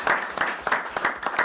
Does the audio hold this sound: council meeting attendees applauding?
yes